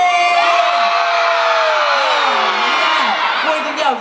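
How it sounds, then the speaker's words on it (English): A young audience of children cheers, whoops and shouts at full volume at a Butlins Bognor holiday-camp stage show. The dense, sustained crowd roar holds for the whole stretch and fades slightly at the end. "you have to cheer as loud as you can"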